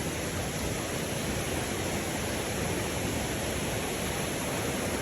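A flowing creek in the Great Smoky Mountains National Park, a steady, even rush of running water close by that continues unbroken with no voices.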